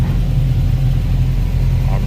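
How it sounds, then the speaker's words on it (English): Several cars sit idling together while warming up, producing a steady, close, low engine rumble with no breaks. "all the cars are warming up."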